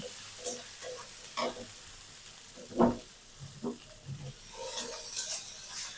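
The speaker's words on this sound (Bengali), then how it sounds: "এখন আদাটা আর একটু ভেজে নিই" Chopped ginger frying in a pan for vegetable khichdi: a quiet, steady sizzle broken by occasional scraping stirs, with a brighter hiss swelling near the end.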